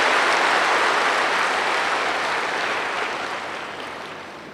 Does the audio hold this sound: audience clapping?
yes